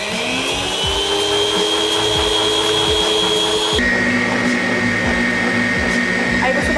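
A handheld electric mixer beats sponge cake batter while sugar is added bit by bit, its steady motor whine dropping in pitch partway through with a faint rhythmic clatter of beaters against the bowl.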